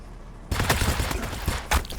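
Units shooting in the Warhammer 40000 Battlesector strategy game, Orks against Tau: a sudden volley of gunfire opens after a quiet start, with rattling shots throughout and one more loud burst near the end.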